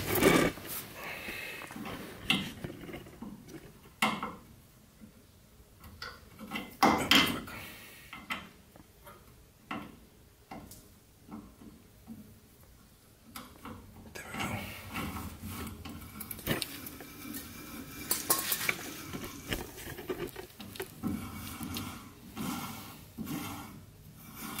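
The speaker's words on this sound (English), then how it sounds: "I'm just gonna retap all the holes, just clean them out a little bit" A tap is turned through bolt holes on a 1966 VW Double Cab to retap and clean the threads, producing repeated close metallic ticks and scraping clicks in irregular bursts, with quieter gaps and no talk.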